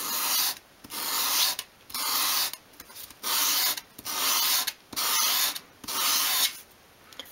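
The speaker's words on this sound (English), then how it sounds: "have your piece of medium grade sandpaper on your worktop. Hold the moulding against it at a 45 degree angle and then just sweep it towards you" Wood moulding swept across medium-grade sandpaper on a worktop at a 45-degree angle, giving seven even rasping strokes, each about half a second long and separated by short pauses, close and clear with no talking.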